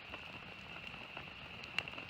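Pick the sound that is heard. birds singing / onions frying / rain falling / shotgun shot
rain falling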